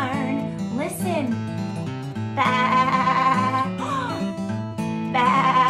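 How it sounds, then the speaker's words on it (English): A sheep bleats several times in loud, wavering calls that rise and fall in pitch, over a sustained tonal backing. "What animal says baa? Yeah, a sheep."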